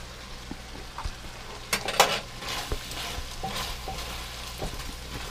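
Steady sizzling of a chicken stir fry in a hot pan with scraping stirs and a few clinks of a utensil, close and moderately loud; no talking.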